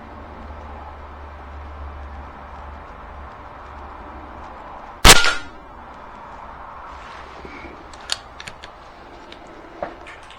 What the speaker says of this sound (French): C'est quand même sympa, hein, de tirer comme ça, au coup par coup